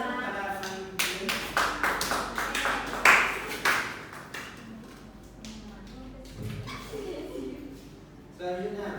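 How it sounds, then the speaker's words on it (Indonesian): Students in a classroom clap briefly for a classmate, a short burst of close hand claps fading after a few seconds, followed by quieter room sounds and voices. "Beri aplaus pada teman ini."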